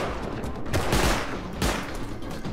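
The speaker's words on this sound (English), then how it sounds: "I'm shooting at the back guy, because I don't want him to just get it in there" Gunfire in the survival game Rust during a fight over a Chinook crate: a dense, loud burst of rapid shots with two heavier blasts standing out, no talking.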